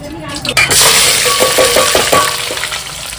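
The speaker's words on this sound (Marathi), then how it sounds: "कढीपत्ता तोडला आहे हां कांदा आहे आणि तेजपत्ता आहे मी सर्व एकत्र टाकणार आहे फोडणीला" Curry leaves, chopped onion and bay leaf drop into hot tempering oil for a mutton dish, setting off a loud, steady sizzling hiss that begins abruptly and carries on, with a voice faintly present.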